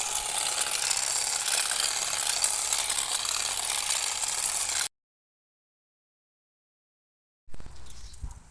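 Cordless battery-powered hedge shears trim a creeping juniper, a dense, steady mechanical buzzing chatter of the blades that cuts out for a few seconds of silence and then starts again more quietly.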